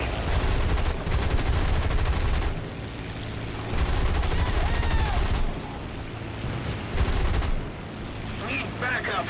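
Bursts of automatic gunfire from aircraft guns in War Thunder rattle out in several long, loud volleys separated by short pauses, over a steady engine drone.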